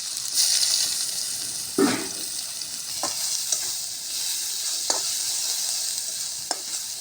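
Chopped onions fry in oil with bay leaves, cinnamon and cardamom, giving a soft steady sizzle close by, broken by several distinct scrapes and knocks from a spoon stirring the pan.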